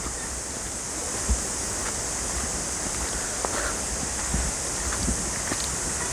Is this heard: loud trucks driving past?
no